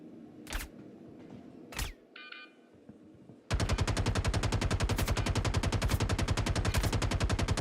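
PTU .22 gunfire in a video game: two isolated single shots, then after a pause a long, loud, rapid burst of evenly spaced automatic fire.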